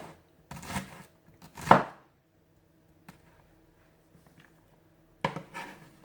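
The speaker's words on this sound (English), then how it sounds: "So cut it in half and then just go through and cut it in slices." A knife slices through a shallot on a cutting board, several crisp short cuts in two clusters separated by a quiet pause, close and clear with no talking.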